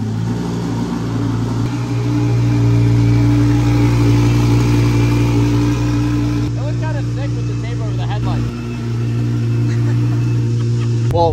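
Twin-turbo Lamborghini Huracan, damaged and not in working condition, running loud and close with a deep steady engine drone and a brief rise in revs partway through, with no one talking.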